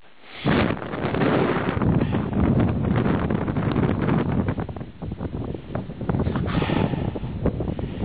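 Strong gusty wind at Hoven, Gimsøya, buffets the microphone in a continuous, loud roar, briefly easing midway before surging again; no voices.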